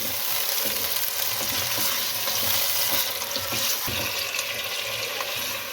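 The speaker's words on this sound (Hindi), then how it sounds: "अब चिकन को इसके अंदर इसका कलर चेंज करने तक फ्राई करें" Chicken frying in a pot with salt and whole cumin for pulao, a loud, steady, dense sizzle running throughout with occasional stirring scrapes, no voices.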